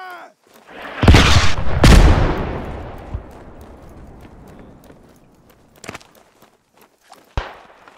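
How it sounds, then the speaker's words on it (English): Footsteps in the WWI shooter Beyond The Wire, set in the Argonne Forest, come amid loud gunfire or explosion bursts, then quieter steps and occasional sharp cracks continue over a noisy battlefield background. "I hear footsteps."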